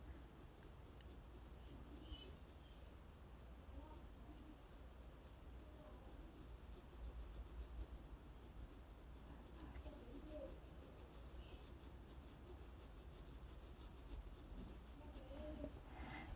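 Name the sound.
pencil shading a tulip drawing on paper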